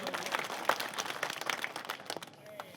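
An audience at a political rally in Bikaner claps and applauds in a dense, crackling burst that fades toward the end. No talk is heard.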